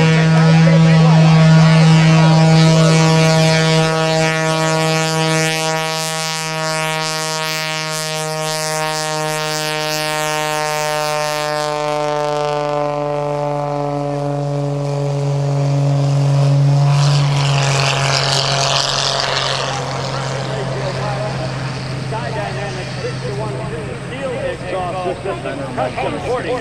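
An aerobatic propeller airplane takes off at the 2011 Cleveland National Air Show, a loud, sustained engine drone that climbs steadily in pitch, with an announcer talking over it.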